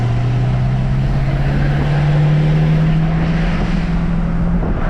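A tuned and deleted Ford F350 truck accelerates at about 3/4 throttle, its engine droning loud and close with a low tone that climbs slowly and steadily.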